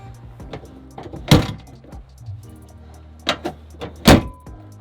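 A door is shut by someone climbing down a ladder with a camera and drone in hand, giving a few sharp, loud thumps and bangs close by, spaced over a few seconds with quieter handling noise between.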